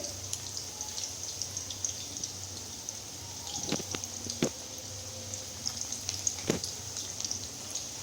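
Cauliflower pakora frying in hot oil, giving a soft, steady sizzle and crackle with scattered pops, close by and fairly quiet.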